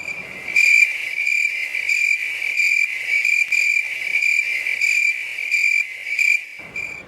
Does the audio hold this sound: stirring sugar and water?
no